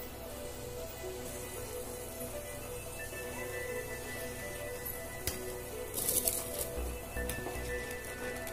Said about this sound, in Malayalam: നമുക്ക് ഈ അരി വെള്ളത്തിലേക്ക് ഇട്ട് കൊടുക്കാം.